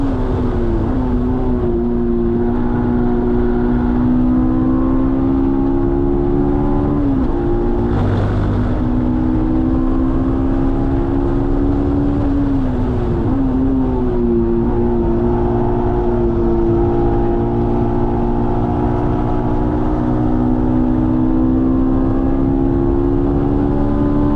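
Honda S2000 lapping Watkins Glen race track, a loud sustained engine drone rising and falling with two quick blips and dips suggesting heel-toe downshifts, heard from inside the car without talk.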